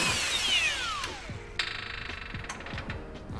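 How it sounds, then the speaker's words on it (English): A power tool with a 14mm socket spins off three strut nuts on a Ford Taurus during strut replacement, a winding whine dropping in pitch, then rapid rattling ratchet-like bursts and clicks, close and unaccompanied by talk. "Now you'll need a 14mm socket to take these 3 nuts off."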